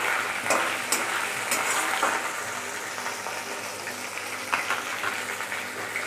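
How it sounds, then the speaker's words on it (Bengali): Panch phoron spices fry in hot oil for a cooking dish, giving a steady, dense crackle and sizzle that runs the whole length with small pops scattered through. No voice is heard. "পাঁচফোড়নটা ভাজা ভাজা হয়ে গেছে"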